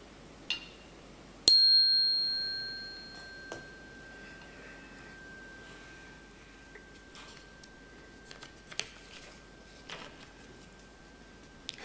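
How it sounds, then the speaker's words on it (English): A chime is struck once during a spiritual service, ringing with a sharp attack and a long sustained tone that fades slowly, heard alone against a quiet room with a few faint ticks and clicks afterward. "I'm going to strike a chime"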